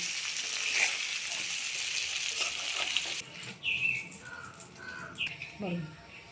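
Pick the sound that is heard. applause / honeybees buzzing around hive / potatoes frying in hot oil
potatoes frying in hot oil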